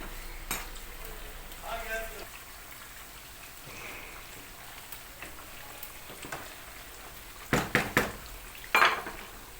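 Soft, steady sizzling of eggplant frying in a pan, broken by clinks and scrapes of a utensil against the cookware, with a few louder clatters near the end.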